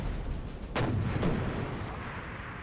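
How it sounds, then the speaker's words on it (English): Two heavy artillery booms from Napoleon Total War in quick succession at a Borodino battle, fairly distant and rumbling over a constant wash of battlefield noise. "This artillery making mincemeat of this light infantry."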